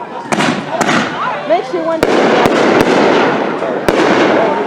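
Fireworks and flares go off over a suburban neighbourhood, sharp loud bangs cracking at irregular intervals over crackling and whistling, while people talk nearby.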